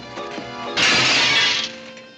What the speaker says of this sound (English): You busted Lily's looking glass